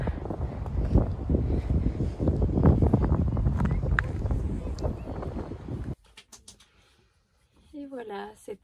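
Wind gusts across the ocean beach at Arcachon, rumbling loudly against the microphone for about six seconds before cutting away to a quiet moment where a person speaks softly.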